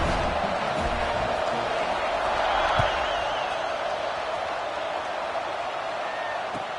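A dense, steady roar from a large football stadium crowd before kickoff at a Memphis versus LSU game, continuous and broad with no distinct peaks, holding level throughout.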